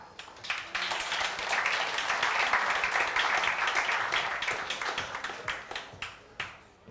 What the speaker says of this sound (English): you will help me with your applause